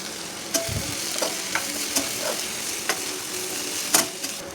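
Onions, green chillies and curry leaves frying in a pan for bitter gourd curry make a soft, continuous sizzle broken by several light clinks and scrapes of a spoon at irregular moments.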